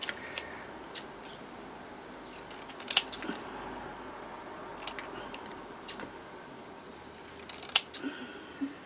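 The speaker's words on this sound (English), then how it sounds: "Just going to cut around them." Scissors snip around small paper field labels in a quiet room, a few sparse, crisp clicks and cuts scattered over a faint background hum, with no voices.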